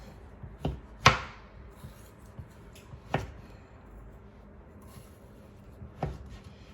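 Knife cutting through partly frozen bacon on a board, a few sharp separate chops spaced a second or two apart with quiet gaps between, close and fairly crisp.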